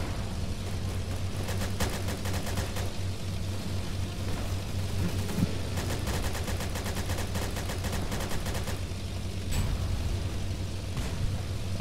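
Rapid bursts of gunfire from guns in the Roblox game Airship Assault, set in a World War I air battle, rattle steadily over a constant low engine drone, with dense volleys clustering in the middle of the stretch.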